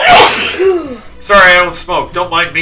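A video game character sneezes once, loud and close, at the very start, then another character speaks calmly over a quiet indoor bar backdrop.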